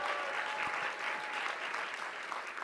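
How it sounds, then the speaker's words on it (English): An audience gives a steady round of applause, an even wash of many hands clapping that sounds fairly faint and distant and continues without a break. "let's have a round of applause"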